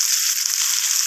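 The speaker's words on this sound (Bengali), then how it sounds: "তো সমস্ত কিছু এইভাবে নাড়াচাড়া করে আমি কষিয়ে নিচ্ছি, ভালোভাবে ভেজে নিচ্ছি।" Raw banana, potato, eggplant and greens stems fry in a pan with a dense, steady hiss of sizzling, close and loud without breaks or talk.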